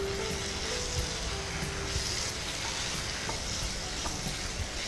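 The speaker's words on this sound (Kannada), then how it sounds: "ಫಸ್ಟು ಇದರಲ್ಲಿ ಕ್ಯಾಪ್ಸಿಕಮ್ ಸ್ವಲ್ಪ ಫ್ರೈ ಮಾಡೋಣ." Capsicum sizzles steadily as it fries in a pan, a continuous bright crackle of oil, with faint stirring scrapes now and then and no one talking.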